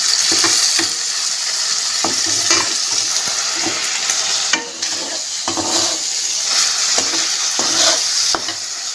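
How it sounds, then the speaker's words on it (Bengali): Turmeric-coated prawns fry in hot oil in a pan. A steady, bright sizzle runs close and loud, broken by sharp stirring and scraping knocks, with no talking. "এদিকে তেল গরম হয়ে গেছে, দিয়ে দেবো চিংড়ি মাছ।"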